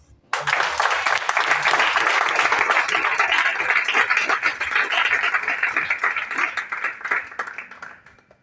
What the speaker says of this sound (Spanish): Aplaudo al Señor.